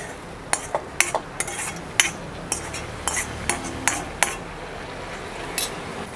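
Vegetable curry of brinjal and potato being scooped from an iron wok into a tinned pot, heard as a string of sharp metal spoon scrapes and clanks, about a dozen irregular knocks close by with no talking.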